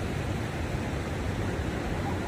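Ocean waves at Baywalk beach make a soft, steady rushing surf that stays faint and distant with a windy hiss throughout.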